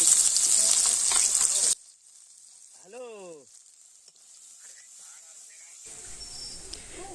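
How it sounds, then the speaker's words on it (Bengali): Chopped onions hit hot oil with spice tempering, giving a soft sizzle after a louder burst of clatter; a faint voice and brief clinks sit over the quiet frying. "তারপরে কুচানো পেঁয়াজগুলো দিয়ে দিচ্ছি।"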